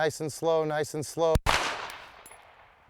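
A single sharp handgun shot cracks out at shooting practice, preceded by someone speaking and followed by a decaying echo.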